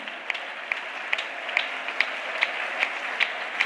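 A church congregation claps in a steady, evenly spaced rhythm during worship, each sharp hand-clap standing out clearly over a soft background wash of more scattered clapping.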